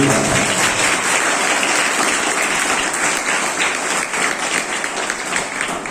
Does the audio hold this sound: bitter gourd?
no